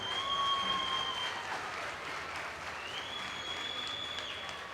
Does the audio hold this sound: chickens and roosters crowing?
no